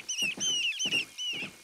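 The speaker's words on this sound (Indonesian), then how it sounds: "Suara burung Trinil." Repeated common redshank calls from a children's nature cartoon, set near mangroves: sharp, high whistled notes in four quick bursts, close and clear with no talk.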